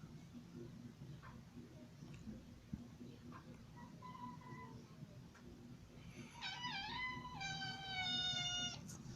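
A house cat meows a few times, faint at first, then clearer, with drawn-out tonal cries near the end over a quiet indoor background.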